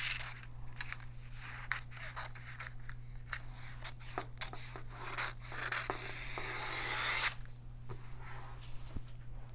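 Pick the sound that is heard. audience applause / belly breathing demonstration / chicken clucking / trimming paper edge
trimming paper edge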